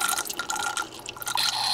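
Red wine poured through a Vinturi aerator, a steady liquid gurgle and drip with airy hiss, close and fairly loud for under two seconds with no talking.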